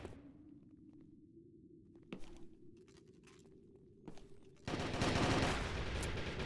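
Gunfire in a close-quarters team match of a multiplayer shooter, with sharp isolated shots in a quiet space giving way to a loud sustained burst of rapid fire near the end, heard without talking.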